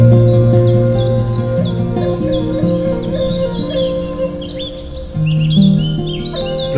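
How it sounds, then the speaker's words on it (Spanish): A flock of birds chatters inside a city park in Madrid, a dense, continuous mix of overlapping chirps and trills. A steady, bright tonal layer runs underneath, and no one speaks. "Quizá la misma algarabía que tienen los pájaros que están en el interior del parque."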